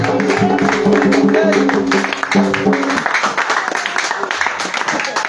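A church congregation applauding the Lord Jesus during a worship service, with clapping running beneath voices and sustained music that fades midway, the applause carrying on with the crowd's voices.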